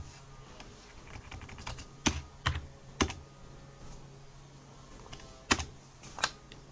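A computer keyboard is tapped out in uneven bursts of sharp key clicks, a few louder strikes standing out, close and alone over a faint low hum.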